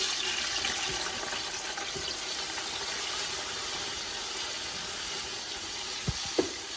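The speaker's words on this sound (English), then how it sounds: "So what I'm gonna do right now is start frying my onions." Steady broadband sizzle of onions frying in a pan, continuous and close, with a couple of soft clinks near the end.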